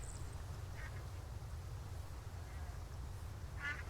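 Ducks quack from a farm pond in the game Farm Together 2, a few short calls spread over steady low background music, fairly faint and at a middle distance.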